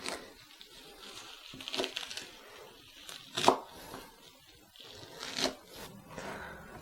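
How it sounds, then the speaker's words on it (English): A knife chops kale on a cutting board in irregular crunchy cuts with some louder strokes, close but fairly soft and unaccompanied. "finished chopping my kale"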